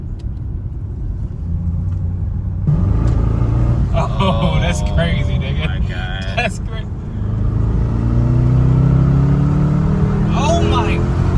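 A Mercedes C63 AMG W204 with a 510 hp engine, switched to Sport Plus mode, rumbles loudly from inside the car, its engine swelling and revving continuously while people exclaim excitedly over it.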